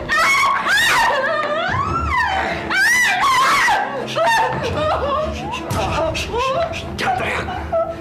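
A woman screams in repeated loud, high wailing bursts over about eight seconds, mixed with sobbing and moaning cries during a threatening confrontation.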